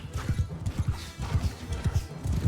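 Cavalry horses galloping across a village battlefield in the video game Mount and Blade II: Bannerlord, their hooves drumming in quick, repeated clip-clop bursts that stay loud and close throughout with no speech over them.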